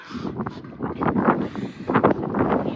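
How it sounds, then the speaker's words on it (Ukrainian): Gusty wind buffeting the microphone outdoors in a village vegetable plot in loud, uneven rushes throughout, with no voices. "І вітер."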